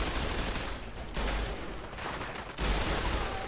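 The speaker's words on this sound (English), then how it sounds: "We'll continue to mag dump her until she's dead, I suppose." Rapid automatic fire from an assault carbine in Fallout 4, a dense continuous rattle of shots in steady bursts with brief lulls, loud and close with no talking.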